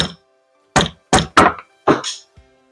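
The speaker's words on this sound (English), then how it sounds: "Go to a steel hammer, who knows?" A steel hammer strikes an oil pump part on a Yamaha Warrior 350 engine, five loud, solid metallic thunks in an irregular close sequence, with no voices.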